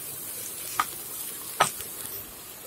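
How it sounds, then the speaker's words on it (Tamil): Capsicum poriyal stir-fry sizzles softly in a pan, with two brief scraping strokes of a spoon stirring the vegetables over a faint, steady frying hiss. "இது நல்லா ஒரு ஒரு நிமிஷம் நல்லா கிளறி விட்டுட்டு அதுக்கப்புறமா ஆஃப் பண்ணிடலாம்"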